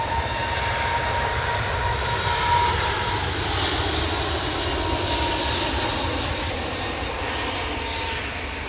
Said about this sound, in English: That's Jet2's first A321neo.